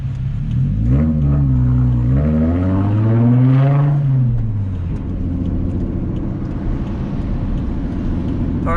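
A Toyota JZX100 Chaser's turbocharged engine pulls hard while driving, its loud, close drone rising and falling through a rev sweep before settling into a steady, rumbling cruise.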